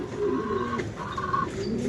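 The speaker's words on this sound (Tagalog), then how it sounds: "Isa pang kalapati na lang, si Sawali Santino na lang, wala pa." Racing pigeons cooing in low, soft, rolling calls that overlap one another, heard close by against a steady background murmur.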